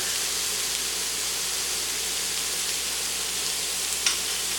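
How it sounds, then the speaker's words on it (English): Cheese melting in a hot pan sizzles and fries with a steady broadband hiss while a utensil stirs it, close and continuous, with a couple of faint scrapes near the end. "we're going to stir that until the cheese is melted"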